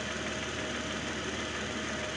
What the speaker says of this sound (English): The engine is running good and smooth.